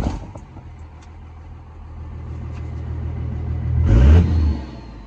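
Car engine driving on a test run just after a Smarty tuner install, a steady low rumble that swells into a louder rev near the end, heard alone without talk.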